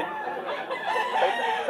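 A rooster at a pet market crows in a sustained, bright call over a steady wash of crowd and market noise.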